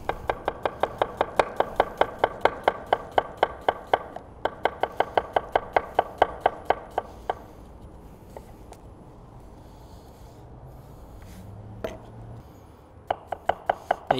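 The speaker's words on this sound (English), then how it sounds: "we're gonna cut them from pole to pole, and then we're gonna slice them super thin" A knife slices sweet yellow onions thinly on a cutting board in rapid, evenly spaced chops, close and crisp, in bursts separated by short pauses.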